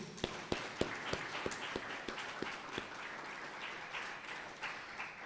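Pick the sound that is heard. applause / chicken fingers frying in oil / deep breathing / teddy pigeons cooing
applause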